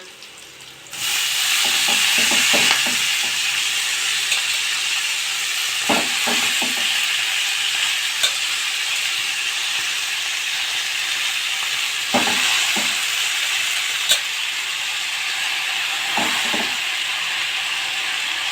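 Fenugreek greens drop into a hot pan with a sudden loud burst of sizzle that holds as a steady hiss, broken by occasional spatula scrapes and taps as the leaves are stirred, with no voices.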